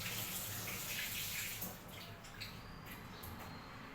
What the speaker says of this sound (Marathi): जरा हात धुवून घ्यायचा।